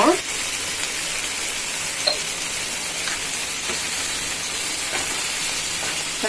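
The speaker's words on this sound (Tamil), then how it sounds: "நான் உப்பு சேர்த்துக்கிறேன் இது வதங்குறதுக்கு தக்காளி வதங்க" Tomatoes with salt sauté in a pan, giving a steady, close hiss and sizzle that runs throughout with a few faint stirring taps.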